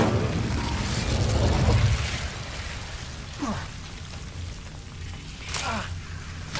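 Incendio fire spell cast in Hogwarts Legacy, a loud rushing burst of flame and low rumble, followed by a few whooshing swipes and crackling pops.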